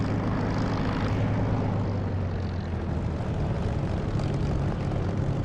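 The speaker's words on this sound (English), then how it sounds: "The sound I'm using for the Spitfire engine is not DCS sound, it's by Echo 19." A Spitfire's propeller engine drones in the DCS flight simulator, using a third-party engine sound pack. The roar is steady, loud and close, with no voices over it.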